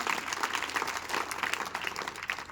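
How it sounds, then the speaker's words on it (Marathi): Sustained applause from an audience at a Marathi school event honoring disabled students, dense clapping throughout at steady loudness, with no speech over it. "त्यांच्यासाठी जोरदार टाळ्या वाजवा"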